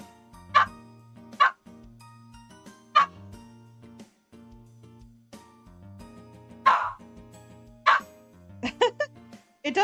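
Short sharp dog barks come in scattered bursts over a quiet background hum, some single and some in quick clusters, fairly close to the microphone.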